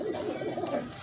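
Cooing of a domestic pigeon, soft repeated throaty coos at close range over a faint background, with no talk.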